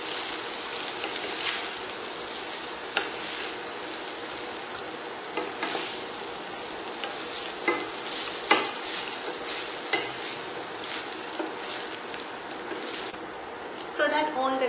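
Gentle stirring of seviyan upma with vegetables in a pan for breakfast, a steady soft scraping and light sizzle with scattered clinks throughout, close and moderately loud.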